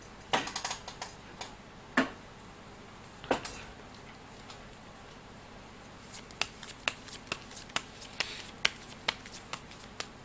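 Tarot cards are handled in a quiet room. A few crisp snaps and flicks come first, then a steady run of evenly spaced sharp card taps as cards are drawn and laid down. No one talks.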